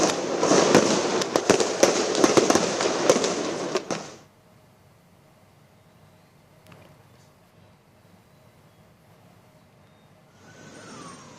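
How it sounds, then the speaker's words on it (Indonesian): Tear gas shots fired by police at protesters in front of a parliament building pop and crackle in a dense, loud burst of rapid bangs for about four seconds, then give way to quiet ambient noise. "Polisi sempat melepaskan tembakan gas air mata untuk membubarkan massa"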